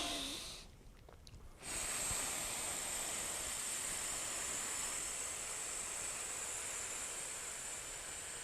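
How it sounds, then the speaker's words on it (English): A steady stream of breath exhaled through nearly closed lips, a soft continuous hiss that begins after a brief pause and holds evenly to the end. "it sounds like a steady stream, like I'm exhaling through a small straw-sized hole"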